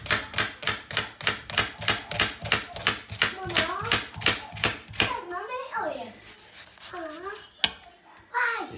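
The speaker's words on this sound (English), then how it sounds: "grab some onions, finely chop your onions" A knife chops onions finely on a board in a quick, even run of close, crisp taps, then slows into scattered cuts while a voice talks over it.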